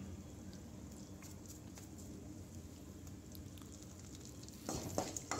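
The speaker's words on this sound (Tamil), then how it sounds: "சேர்த்ததுக்கப்புறம் அவ்வளோதான், லைட்டாக வதக்கி விட்டுக்குங்க, போதும்." Asafoetida fries quietly in a pan for coconut rice, a faint steady sizzle with scattered light ticks, growing louder with stirring clatter near the end.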